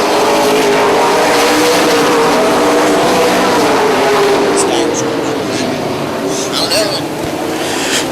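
Super late model race cars roar around a short track after the green flag, a loud sustained engine drone from several cars with a commentator talking over it.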